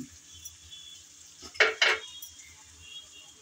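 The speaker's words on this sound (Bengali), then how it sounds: "কাসুন্দি দিয়ে আবারও ভালোভাবে নেড়েচেড়ে মিশিয়ে নিতে হবে।" Taro stolons (kochur loti) being stirred with kasundi mustard sauce in a pan: two sharp scraping clinks of a spatula against metal over a faint background hum, with no talking.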